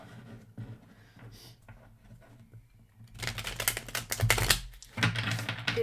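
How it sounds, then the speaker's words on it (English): Tarot cards being shuffled during a spiritual reading, a quiet patter at first, then a loud, dense burst of riffling and flicking cards near the microphone over the second half. "Let's give it another shuffle."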